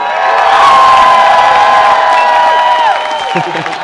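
Arena crowd at a League of Legends esports finals match cheering loudly, a dense roar of shouting and whooping that swells and then slowly fades over a few seconds.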